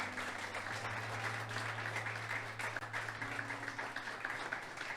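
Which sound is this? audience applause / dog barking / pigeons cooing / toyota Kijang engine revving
audience applause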